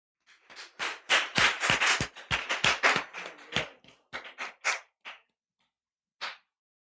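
Hands clapping at a talk event as a speaker is introduced, a burst of distinct loud claps that thins out into a few scattered claps and then stops.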